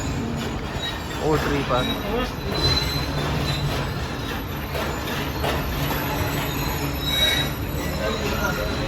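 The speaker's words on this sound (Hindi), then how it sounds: "ये हमारी ट्रेन ने ब्रेक लगा दी है" The Pak Business Express passenger train brakes near Kotri Junction in Pakistan, its wheels squealing steadily against the rails along with rolling rumble while someone talks over it.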